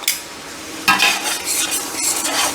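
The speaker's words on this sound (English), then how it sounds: "And we'll just saute that a little bit, give some of that really raw garlic cooked away" Chopped garlic sautés in a pan for a Sunday spaghetti sauce, a close bright sizzle that swells when it is stirred, with a few sharp scrapes of the utensil against the pan.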